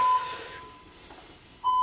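A fire alarm in an apartment building sounds as a faint, steady electronic beep tone, heard briefly at the start and again at the end with a quiet pause between.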